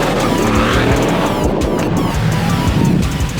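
A car launches hard off the line on launch control, its engine roaring loud and close with a brief squeal of tires, steady and intense throughout with no talking.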